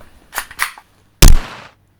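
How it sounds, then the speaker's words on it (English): A single loud gunshot rings out close by after a couple of softer knocks, its sharp crack followed by a short decaying tail into silence. "I even tried shooting him."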